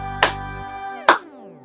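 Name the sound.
domino clapping, hand claps passed between children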